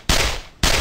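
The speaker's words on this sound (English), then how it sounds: "this game has guns in it" Gunfire in the indie video game Block World: two sharp, loud, close gunshots, each a broad burst lasting about half a second, separated by a brief gap.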